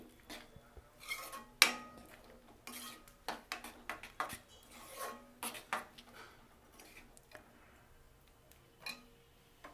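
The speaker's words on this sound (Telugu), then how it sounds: "వేసి ఇంకొకసారి బాగా కలపండి." A spoon scrapes and clinks against a metal pot in irregular bursts while dal is stirred with turmeric, close and fairly quiet, with no talking.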